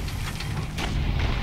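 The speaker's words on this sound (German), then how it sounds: "Von den Kanonen sollten wir uns schätze ich in Acht nehmen." Cannon fire in the Assassin's Creed Brotherhood video game rumbles as a dense, low, continuous booming wash with a brief burst partway through, loud and close, without speech.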